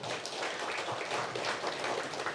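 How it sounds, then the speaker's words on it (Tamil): Steady applause from an audience at a gathering, dense and continuous clapping heard from a moderate distance. "கைத்தட்டலோடு நன்றி தெரிவிப்போம்."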